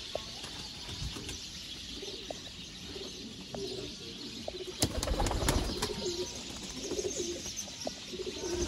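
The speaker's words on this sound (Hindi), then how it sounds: "रिजल्टेड फिरोजपुरी कबूतर कैसे होते हैं" Ferozpuri pigeons coo softly and repeatedly amid a busy birdy backdrop, with occasional chirps and a brief flutter of wings partway through.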